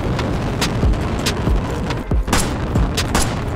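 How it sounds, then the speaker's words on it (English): Gunfire in the video game GTA 5, a series of booming shots spread irregularly across a few seconds over a dense, noisy game backdrop. "Who the hell's shooting at me?"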